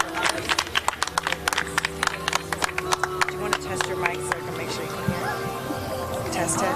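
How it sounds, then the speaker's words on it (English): An audience claps for the next speaker at a debt-discharge gathering, sharp uneven claps rattling steadily at close range, thinning out toward the end, with voices talking around them. "Clap it up for Rita."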